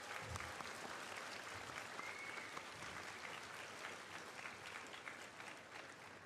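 A crowd applauding steadily, dense and continuous clapping that fades slightly toward the end.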